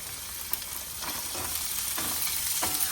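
A small chopped onion fries in hot oil in a pan with curry leaves and green chilies. It gives a steady close-up sizzle, broken by a few sharp scraping stirs.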